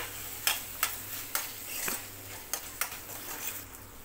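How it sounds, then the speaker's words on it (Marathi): Finely chopped tomato sautéing in oil in a pan for street-style anda ghotala, a soft steady sizzle with regular spatula taps and stirring scrapes against the pan, close and fairly quiet. "हा टोमॅटो आपल्याला नरम होईल तर परतवून घ्यायचा आहे"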